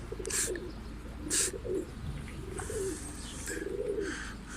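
Pigeons coo in low, repeated phrases close by, with a few higher chirps mixed in over a steady background.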